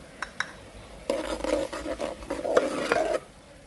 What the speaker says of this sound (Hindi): मसालों को हम थोड़ी देर ही भुनेंगे अच्छे से